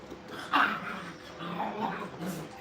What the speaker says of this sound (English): she makes a bunch of growling noises all the time